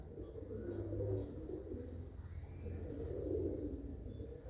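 Pigeons of mixed breeds cooing in a loft, a faint, continuous low murmur of overlapping coos swelling and easing against quiet room noise.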